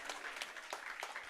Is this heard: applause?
yes